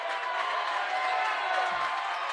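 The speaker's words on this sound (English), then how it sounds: "West Central fans making a little noise, applauding their team's defensive effort" Fans at a high school boys basketball game make noise in the gym, a faint, distant wash of crowd clapping and cheering that stays even throughout.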